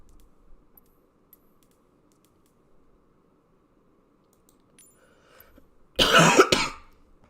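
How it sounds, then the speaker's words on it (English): A single short burst of raspy coughing from someone recovering from the flu breaks in after a long stretch of near silence, close and fairly loud. "you're gonna hear me coughing like that"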